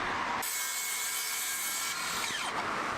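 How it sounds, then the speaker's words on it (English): A circular saw cuts a wooden pillar to length, its blade spinning up sharply and then ripping steadily through the wood, loud and close, before winding down as the cut finishes. "I could cut the pillar to length using my circular saw and a speed square guiding the cut."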